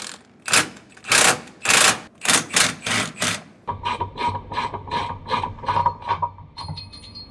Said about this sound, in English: use a ratcheting wrench to get it off the rest of the way to speed it up